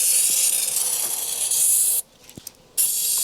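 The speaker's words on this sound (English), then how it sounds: "All I'm going to do is basically spray a load into the intake tube." Easy Start starting fluid hisses from an aerosol can into the intake tube of a Ford Mustang, two close, steady, loud sprays separated by a brief pause with faint clicks.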